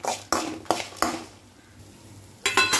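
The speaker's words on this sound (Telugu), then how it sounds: "కరివేపాకు వేయించుకుందాం దీంతో పాటు కొద్దిగా చింతపండు వేసాను" Curry leaves and tamarind in a pan with a few distinct metallic clanks of a utensil against the vessel, spaced irregularly, with faint frying noise between, close by.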